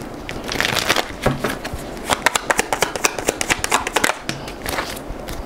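Tarot cards are shuffled by hand close up, a rapid run of crisp riffling flicks and slaps that grows denser in the middle, with a brief quieter pause before the shuffling resumes.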